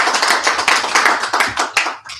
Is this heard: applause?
yes